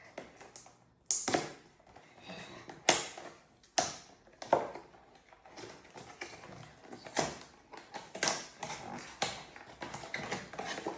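Crinkly tearing and tapping as taped Labubu blind box packaging is pulled open by hand, a run of close, sharp rips and rustles in irregular bursts with no talking.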